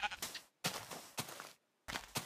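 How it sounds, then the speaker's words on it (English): Black sheep in Minecraft bleating close up, three or four short, clear bleats separated by brief silences. "So there's a black sheep there."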